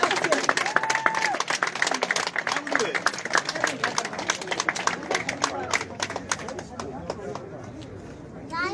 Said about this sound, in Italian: Fate un applauso di incoraggiamento, grazie